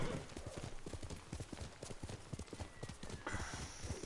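Steady, rhythmic clip-clop of horse hooves trotting at an even pace in the video game Ghost of Tsushima, continuous and close, with a faint whinny-like tone near the end.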